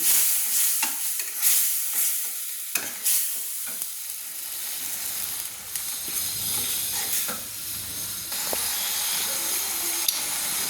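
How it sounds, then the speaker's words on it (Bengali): A spice paste with dried mango powder (amchur) sizzles steadily in a hot wok while a spatula stirs and scrapes through it in repeated strokes. "একটু নেড়ে নিচ্ছি"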